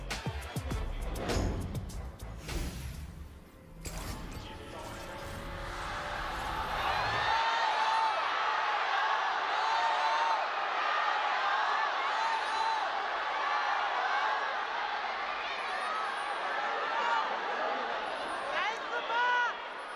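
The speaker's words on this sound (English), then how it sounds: "it is a packed house here in the Nanjing Olympic Sports Arena" A packed indoor crowd at the Nanjing Olympic Sports Arena for a League of Legends LPL 2018 Regional Finals match cheers and roars in a sustained wash of noise after a few seconds of louder mixed sound at the start.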